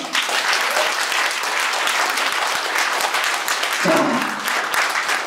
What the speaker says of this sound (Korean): 여러분 박수 안 치겠습니까?